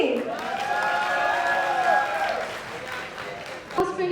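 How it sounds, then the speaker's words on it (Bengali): Applause and crowd noise at a tech talent award ceremony as a crest is handed over, with a sustained tonal voice or music line riding above a steady clapping wash, then a sharp thump near the end. "জোরে করতালি"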